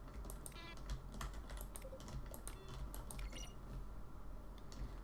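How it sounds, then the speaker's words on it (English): Button presses from the video game The Stanley Parable, each a keyboard stroke blended with a short synchronized tone, sounding as a quick run of close, crisp clicks and taps over a faint low hum, with no talking. "When buttons are pressed, each sound is a mix of a keyboard stroke and a synchronized tone"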